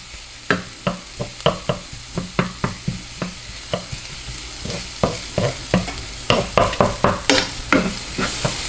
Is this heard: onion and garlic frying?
yes